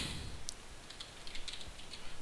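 Quick keystrokes tapped out on a computer keyboard while entering a rotate command in Maya 3D modeling software, a few scattered clicks under quiet background hiss.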